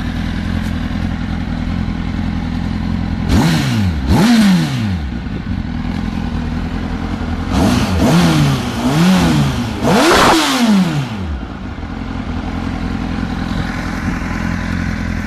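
A 2009 Honda CBR1000RR sport bike idles loudly, then its engine is revved in several sharp bursts that rise and fall, with a steady idle between blips and no talking.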